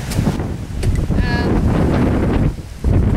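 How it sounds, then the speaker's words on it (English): Wind buffets the microphone in a steady rumbling roar that carries through the whole stretch, with a brief whine rising over it partway through. "It's a little windy today"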